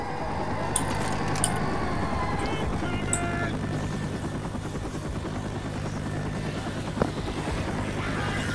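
A helicopter thrums loudly and steadily as it arrives in the co-op zombie game Left 4 Dead, its rotor chop mixed with game noise and occasional sharp effects.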